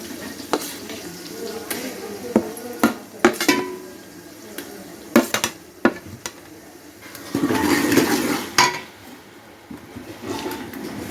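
Ginger garlic paste frying in a pan, a steady soft sizzle broken by clinking stirs and scraping of a spoon against the pan, with a louder burst of sizzling midway.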